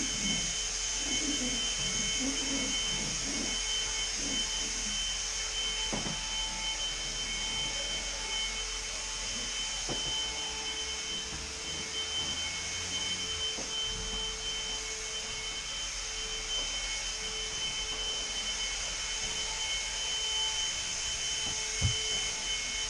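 A household vacuum cleaner runs steadily for the whole stretch, a constant whining hum with a high tonal whistle, close and moderately loud, with occasional small knocks and bumps as it moves.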